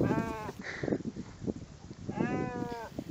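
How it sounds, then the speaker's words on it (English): Sheep bleat twice on a mountainside, two loud wavering calls near the start and end, over rustling outdoor background. "The sheep decided to just wander off down the side of a mountain"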